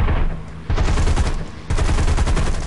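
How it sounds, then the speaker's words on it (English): Loud, close machine-gun fire from War Thunder hammers out in rapid continuous bursts, with two short breaks in the stream and no voices over it. "Could you stop shooting me, please?"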